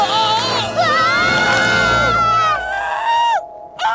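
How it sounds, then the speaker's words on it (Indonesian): Screaming from a group of children in an animated kids' adventure show, loud harmonic wails rising and falling over about three seconds and then breaking off abruptly, with crowd-like shouting mixed in. "Udah, berhenti teriaknya."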